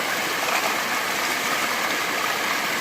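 Water flows in a river about two kilometers downstream of a gold-bearing stretch, a steady, broad rushing hiss with a faint gurgle and no voices.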